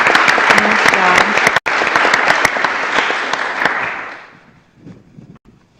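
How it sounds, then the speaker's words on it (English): Audience applause fills a commission meeting room, loud dense clapping from a crowd that carries on steadily, then thins out and fades to scattered claps near the end. "Could you guys give them one more round of applause?"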